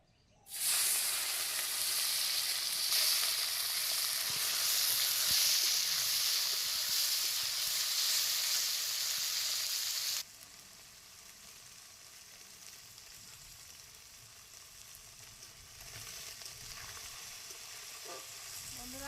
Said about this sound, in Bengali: এরপর মাছগুলোকে ভেজে তুলে নেবে এক এক করে